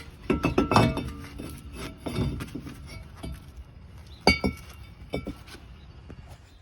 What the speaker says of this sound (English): Now the rotor can come off.